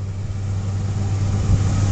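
A Ford F-150 SuperCrew FX4 4WD pickup idles steadily nearby, a constant low rumble with no revving or voices.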